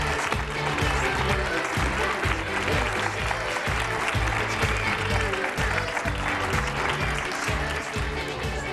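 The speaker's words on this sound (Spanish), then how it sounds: "¡Fuerte aplauso!" A studio audience on a Spanish TV show breaks into loud, sustained applause, a dense and steady roar of clapping with rhythmic music thumping underneath.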